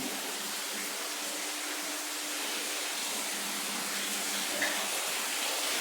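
A waterfall at a Buddhist temple in Phayao, Thailand, roars as a loud, steady broadband rush of falling water that stays constant throughout, close by and without a break.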